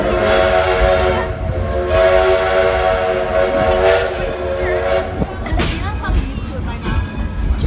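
Coal-fired steam train running at Greenfield Village, with a sustained steam whistle blowing over continuous chuffing, hiss and rail noise, loud and close, while people talk in the background.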